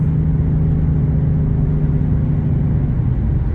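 A small car's engine drones steadily and loudly from inside the cabin as it drives up the road, with a constant low rumble that never lets up.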